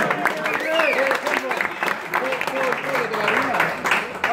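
Applause from an audience for a flag bearer at a clinic in Rancagua, a steady patter of clapping with voices talking over it throughout.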